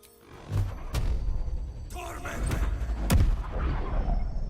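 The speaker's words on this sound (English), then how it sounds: "So I'm gonna do a magic missile" A magic missile spell cast in Baldur's Gate 3, heard as a run of loud, sharp booming impacts that burst one after another over a rumbling low backdrop, with a voice speaking in the mix.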